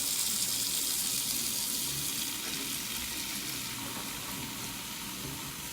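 Water runs steadily from a kitchen tap into a sink where dish soap is being added, a continuous hissing splash lasting several seconds with no talking.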